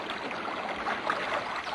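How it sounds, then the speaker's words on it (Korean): Water runs steadily from a village spring basin in the mountains, a continuous soft babbling and rushing wash with no pauses and no voices. "진짜 물소리가 들려왔다."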